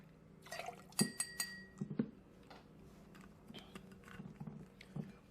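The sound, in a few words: pouring Ketel One Citron lemon vodka for a cocktail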